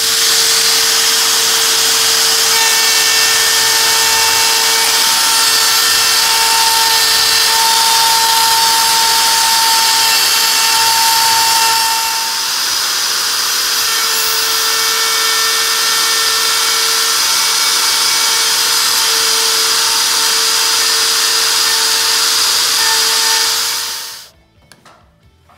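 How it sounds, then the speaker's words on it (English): A router bit grinds along a countertop edge, a loud steady high-pitched whine with a constant hum that runs for over twenty seconds before cutting off abruptly. "you take your router bit, and when that's flush with that, it just grinds right away"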